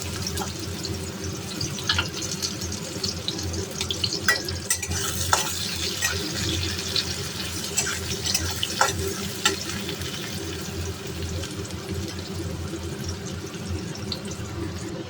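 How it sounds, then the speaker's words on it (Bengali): Onion fries in hot oil in a wok, a steady close sizzle broken by scattered crackles and stirring scrapes that carry on for the whole stretch. "কড়াইতে তেল গরম করে পেঁয়াজটা প্রথমে দিয়ে দেবো"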